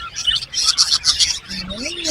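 Several lovebirds chirp and tweet in rapid, overlapping bursts, fairly close and steady, with a short pause midway before the chattering resumes.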